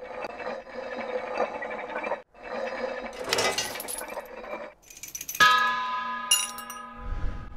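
Strange bell mechanism in the House of Da Vinci puzzle game: rattling clockwork gears and ratchets, then a loud clear metallic bell strike whose ringing tone sustains and fades, followed by a low thud.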